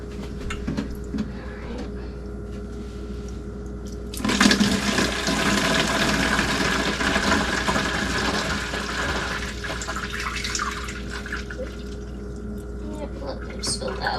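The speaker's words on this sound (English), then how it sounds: "So I'm just going to strain it through this into a gallon jug that I have." Basil lemonade strained through cheesecloth into a gallon jug, a sudden loud rush of pouring liquid that starts a few seconds in and runs steadily before easing off, over a low background hum.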